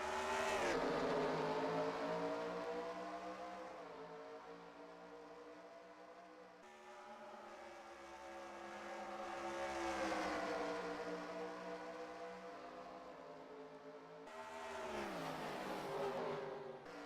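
Race cars roar around the Richmond short track in the NR2003 racing game, a loud, continuous engine drone that swells and falls in pitch as the cars pass and shift, with no talking.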